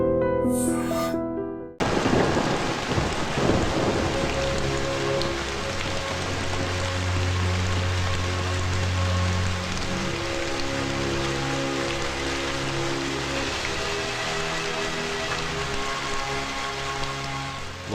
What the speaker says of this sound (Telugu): ఈరోజు కురుస్తున్న ఈ వర్షం మంచికో చెడుకో ఇతనికి తెలియదు